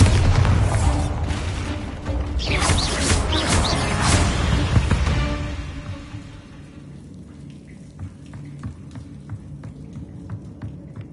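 Bombarda spell explosion in the Hogwarts Legacy video game, a loud, booming blast with crackling debris that rumbles for several seconds, then fades to a quieter tail.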